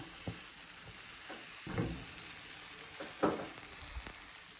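Aloo paratha cooks in oil on a hot pan over low to medium flame, giving a quiet, steady sizzle broken by a few soft scrapes and taps.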